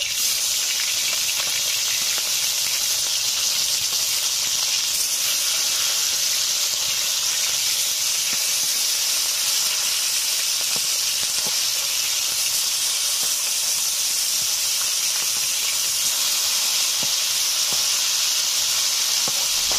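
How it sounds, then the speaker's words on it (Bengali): Pieces of rohu fish fry in hot oil, giving a loud, unbroken hiss that holds steady and close throughout, with faint crackles and no speech. "মাছগুলো একটা সাইড ভাজা হয়ে গেছে, উল্টে নিচ্ছি।"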